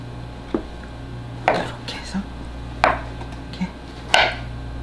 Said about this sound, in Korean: 새송이 버섯을 자를 때에는요 머리는 따로 잘라주세요